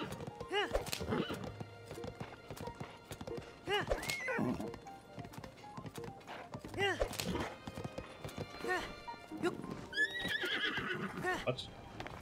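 Horse hooves clip-clop in uneven bursts and a horse neighs loudly in The Legend of Zelda: Tears of the Kingdom, with game music and effects around them and no speech.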